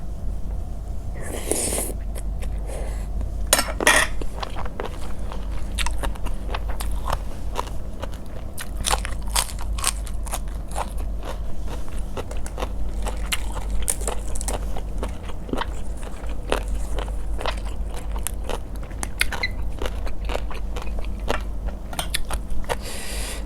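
Crunchy biting and chewing of a spicy Thai papaya salad with large apple snails, eaten with cha-om, morning glory and other vegetables; repeated close crisp crunches and crackles in an irregular rhythm, with no talking.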